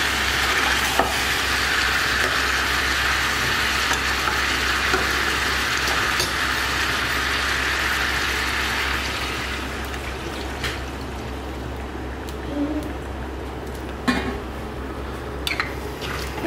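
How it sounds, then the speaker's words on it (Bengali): Warm water goes into a pan of well-browned potatoes and meat, raising a loud hissing sizzle that eases off after about nine seconds, followed by scattered clinks and light stirring noises. "এবার আমি যে উষ্ণ গরম জলটা করেছিলাম সেটা আমি এর মধ্যে দিয়ে দেবো।"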